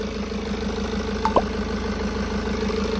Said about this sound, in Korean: 일단 무사히 시동을 걸렸고